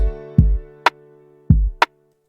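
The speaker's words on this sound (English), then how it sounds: "So this is what the snare sound like when it's in the drum bus." Two punchy snare drum hits through a drum bus, with a low resonant body and a sharp upper crack after each, played alone in a steady pattern.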